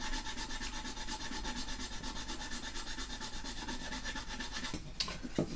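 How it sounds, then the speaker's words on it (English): A fine file rasps steadily back and forth across the surface of a 1/200 scale Bismarck model ship, the even strokes quiet and close, continuing without a break before a couple of faint clicks at the end. "I'll just switch over to a fine file"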